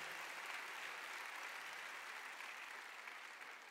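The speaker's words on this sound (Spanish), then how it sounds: "Démosle un aplauso a esos líderes de célula." An audience claps for cell leaders in a church service, a steady, even wash of applause that carries on without letting up, sounding somewhat distant and soft.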